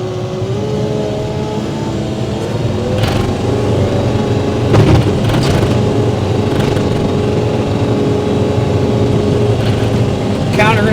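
A 2024 JCB 1CXT Pro rubber track skid steer loader backhoe runs with a steady, close diesel drone, broken by a few sharp clanks and knocks from the machine.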